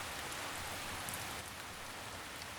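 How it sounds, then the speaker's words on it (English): Steady rain falls on a forest floor, a soft, even wash of pattering drops with no distinct individual hits, faint and continuous throughout. "Imagine the rain pattering along the forest floor"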